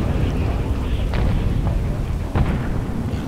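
Carpet-bombing explosions in the video game Atom Zombie Smasher, a dense continuous rumble of booms with sharper blasts cracking through around a second and two and a half seconds in, loud and unbroken throughout.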